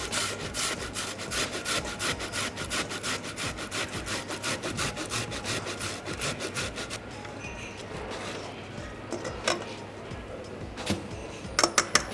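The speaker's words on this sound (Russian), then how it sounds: "Натерем на мелкой терке." A fresh tomato rubbed back and forth on a fine grater, giving a steady run of rhythmic rasping strokes up close that thin out near the end, followed by a few sharper taps.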